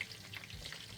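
Bammy, a cassava flatbread made with coconut milk, frying in a non-stick pot of oil that is cooling down, giving a steady soft sizzle and crackle throughout the short stretch.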